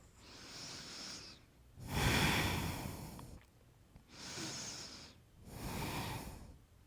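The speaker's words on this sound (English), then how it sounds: "One more deep breath here in forward fold" Slow, deep breathing during a yoga forward fold (Uttanasana), with two long audible exhales or inhales and soft pauses between them, close and fairly quiet with no talk.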